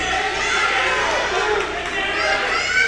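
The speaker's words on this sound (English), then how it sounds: "Everyone in the crowd's yelling for him to shoot." Spectators at a high school wrestling match between Kinnelon and Whippany Park yell and shout urging a wrestler on, a loud continuous roar of many voices in a gym with overlapping cries.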